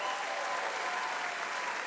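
A comedy show audience applauds a volunteer brought on stage, with steady, dense clapping throughout at moderate distance, fairly faint and even.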